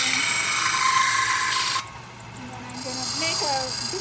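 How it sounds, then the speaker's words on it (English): A belt sander grinds burrs off hacksaw-cut metal, a steady loud whine that cuts out briefly midway and then resumes more quietly, with a person talking over it. "I could file it, but I'm going to use the belt sander here."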